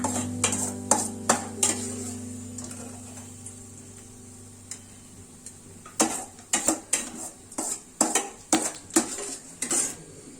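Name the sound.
transferring cooked food into a bowl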